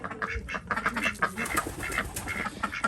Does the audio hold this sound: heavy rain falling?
no